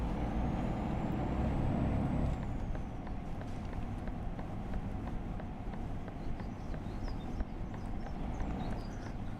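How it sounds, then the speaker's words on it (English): A truck's turn indicator in Euro Truck Simulator 2 ticks at a steady, even pace for the whole stretch, sitting over a constant low engine and road rumble inside the cab. "Nice indicator sound."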